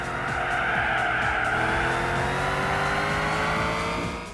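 Racing cars in the PlayStation 2 game Gran Turismo 4 roar loudly and continuously, engines whining as tires squeal through a long skid.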